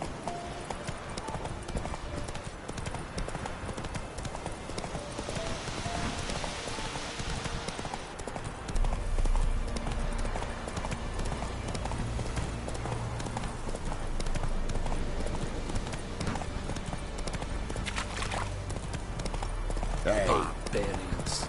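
Roach, Geralt's horse in the game The Witcher 3, trotting with quick, even hoofbeats that carry through the whole passage, layered over game music and ambience, with a voice speaking in places.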